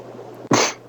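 A single sharp sneeze bursts out close by, short and explosive, against a faint background hum.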